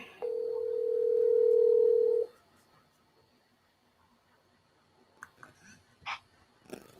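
A loud steady telephone dial tone sounds for about two seconds as a guest is called, then fades to near silence broken by faint clicks and small noises.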